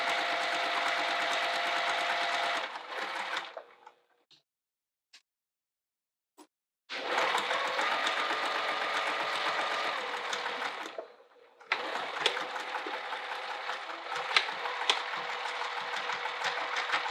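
A sewing machine stitches a wallet seam in steady bursts of rapid mechanical whirring, pausing for several seconds in between. It runs loud and close, with no talking.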